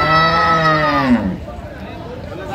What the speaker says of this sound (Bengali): রহিম ভাইকে গরুটি দেখছেন